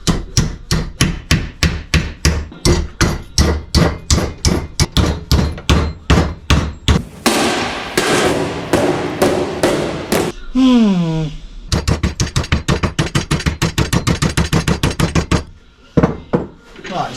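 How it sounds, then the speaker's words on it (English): Rapid, rhythmic hammer blows on a metal bracket held in a vise ring out up close in long runs, broken by a scraping stretch and a brief spoken exclamation. "I'm just going to get to hammering over the vise and see what I can do with it."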